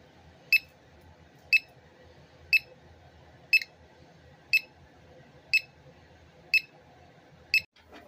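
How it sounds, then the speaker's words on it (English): Geiger counter alarm going off indoors at home, sharp electronic beeps repeating steadily about once per second, eight in a row over a faint background hum. "I hear the Geiger counter alarm going off as I walk in the door"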